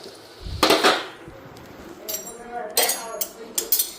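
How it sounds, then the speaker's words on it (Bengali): Washed lunch dishes and pots are gathered and stacked away, with loud, close clattering and clinking in several bursts separated by short pauses. "দুপুরের বাসন ধুয়ে রাখছিলাম, এগুলি এখন গুছগাছ করে নিই।"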